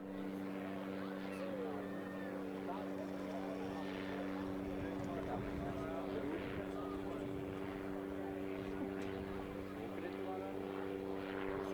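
A propeller aircraft makes a quick descent at the 2024 Croatian International Airshow in Varaždin. Its engine drones steadily and continuously throughout, with a narrator talking over it.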